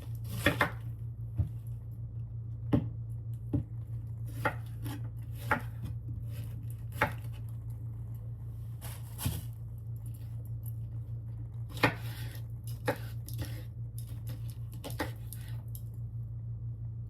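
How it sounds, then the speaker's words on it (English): A knife chopping red cabbage on a board, with sharp, fairly quiet cuts arriving in irregular clusters over a low steady hum, no talking. "So start off with cutting my cabbage."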